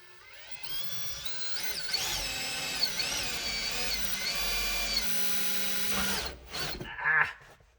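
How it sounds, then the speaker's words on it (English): A power drill whirs steadily for several seconds, boring a small pilot hole for a screw into wood, then winds down with a couple of short bursts at the end. "we'll drill a little pilot hole for the screw to go into the wood here"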